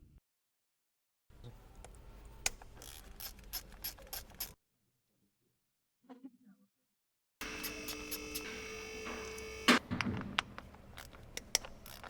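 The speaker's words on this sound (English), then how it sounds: "Use a 10mm socket on your ratchet to remove the 3 coil pack bolts." A hand ratchet with a 10mm socket loosens coil pack bolts on a 2012-2017 Jeep Wrangler engine, giving bursts of quick, close clicking in two stretches separated by a quiet gap, with a few metallic clinks near the end.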